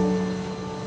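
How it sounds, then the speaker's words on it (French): Steady broadband drone of a zero-gravity parabolic flight aircraft cruising at altitude, with constant engine and cabin hum and tonal bands, loud and uninterrupted with no talk. "À partir d'un palier situé à 6000 mètres d'altitude, l'avion 0G effectue des paraboles."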